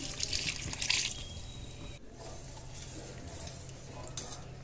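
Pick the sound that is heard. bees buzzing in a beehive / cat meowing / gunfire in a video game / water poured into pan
water poured into pan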